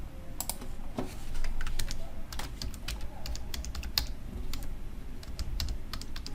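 Password being typed on a computer keyboard while setting up a Raspberry Pi: a quick irregular run of close key clicks over a steady background hum, with no speech.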